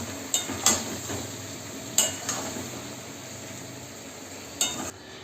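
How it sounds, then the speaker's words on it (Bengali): A spoon stirs tomato and ginger-garlic paste in a pan for mutton korma: a faint, steady sizzle broken by a few sharp scrapes and taps against the pan. "আপনারা এই পেস্টটা দিয়ে হালকা হাতে এইভাবে নাড়তে থাকবেন, না তো তলায় লেগে যাবে।"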